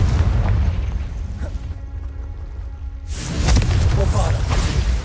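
A Confringo blast spell from a Harry Potter video game bursts with a loud, broad whoosh and boom, fading to a quieter stretch before another dense explosive burst swells back up, with voice mixed in.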